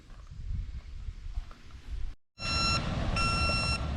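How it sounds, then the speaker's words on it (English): Steady, evenly spaced electronic beeps from a reversing concrete truck ring out after a low rumble of idling engine, fairly near and clear. "you know what that beeping is? That's the concrete truck."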